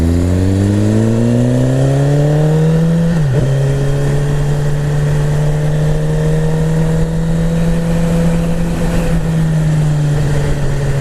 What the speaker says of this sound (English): putting a Yoshimura exhaust on like this. It sounds immense.